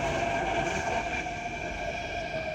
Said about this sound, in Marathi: ही बघा आलेली आहे मेट्रो